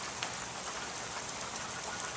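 Rain falls steadily outdoors, a soft, even hiss of drops on surfaces with faint scattered patters, continuous and fairly quiet with no voices.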